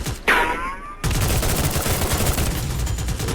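Video game gunfire: one sharp shot with a ringing tail, then a dense run of rapid automatic fire that fills the rest of the short clip, loud and close.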